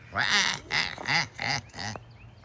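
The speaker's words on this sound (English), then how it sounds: "First thing the ducks did was laugh at me when I got down here." Several ducks give a run of loud, nasal, laugh-like quacks close by, about five evenly spaced bursts in quick succession.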